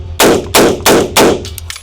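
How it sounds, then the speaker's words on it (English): Four loud, sharp rifle shots from a Colt IAR fed from an aluminum magazine, fired at an even pace close by, each with a short ringing decay, followed by a couple of faint metallic clicks. "So I'm going to do 5 rounds each through 10 different magazines and see how it runs."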